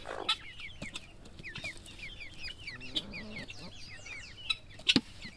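A flock of chickens clucks and chatters busily at close range while being fed cooked corn, with a few louder squawks near the end.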